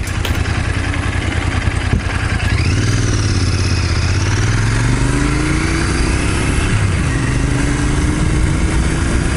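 A motorcycle engine runs steadily up close, its low throbbing rumble rising and falling slightly as the revs shift, with rattling mechanical clatter throughout and no speech.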